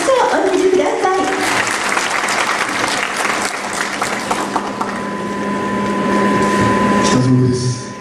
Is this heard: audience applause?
yes